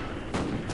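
A short burst of rapid gunfire from the video game Call of Duty: Ghosts, dense and loud with a sharp shot partway through.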